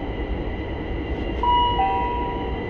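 Interior of a Heathrow Express Class 387 electric train formed of units 387135 and 387140, a loud steady rumble of motion with a rising whine and a brief tonal squeal midway.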